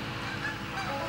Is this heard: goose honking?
yes